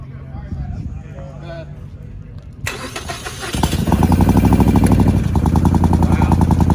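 A motorcycle engine starts partway through and settles into a steady, low idle, fairly close, with a faint voice murmuring before it catches.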